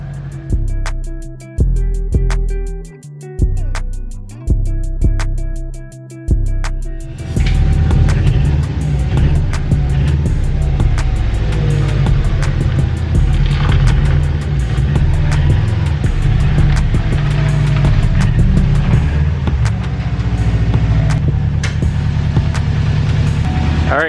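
A Pontiac Fiero-based Ferrari 355 replica kit car cranks over in several short starter bursts, then fires and settles into a loud, steady idle close by with a continuous rumbling engine note.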